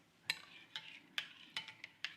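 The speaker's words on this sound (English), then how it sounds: "mix the soup" A spoon stirring seafood gazpacho in a bowl gives light clinks and taps, about seven spaced strikes, faint and close with no talk.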